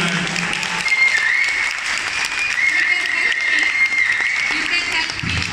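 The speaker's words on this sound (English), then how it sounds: "We need huge round of applause for her." Sustained audience applause at a hula hoop performance, a steady wash of clapping that fills the whole stretch without pause.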